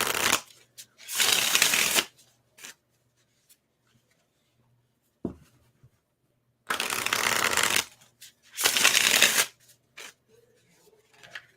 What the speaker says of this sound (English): I feel like I over shuffle.